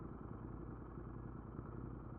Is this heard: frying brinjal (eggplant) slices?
no